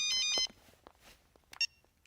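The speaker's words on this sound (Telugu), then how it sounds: "ట్రావెల్స్ నుంచి ఫోన్" A telephone ringtone sounds in a short, bright burst, then cuts off, leaving a quiet room with faint shuffling and small knocks.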